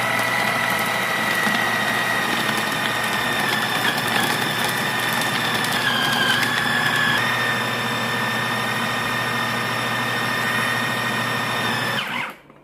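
A motorized grinder churns beef meatball dough mixed with tapioca flour, its steady high whine running continuously close by before the motor cuts off at the very end.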